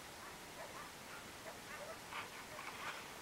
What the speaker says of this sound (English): Bunch of barking dogs in the background back there at one of the ranch houses.